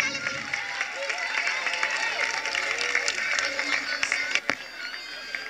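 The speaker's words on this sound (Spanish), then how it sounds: "Un aplauso para los chiquillos del Kinder E." An audience at a school music gala applauds kindergarten performers, a steady wash of clapping with crowd voices and chatter woven through it, ending in a single sharp knock.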